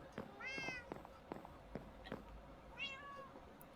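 Two short cat meows in Minecraft, one early and one near the end, over faint clicks and soft thumps in a quiet background.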